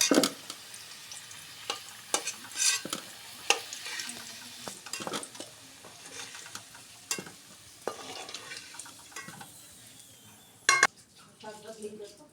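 Potatoes frying in hot oil: a continuous sizzle broken by frequent stirring clatter and utensil clinks against the pan, close and moderately loud, with a sharp metallic knock near the end.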